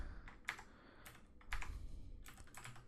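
Keys clatter on a computer keyboard in short, irregular bursts of clicks with brief pauses between, close and quiet in a still room.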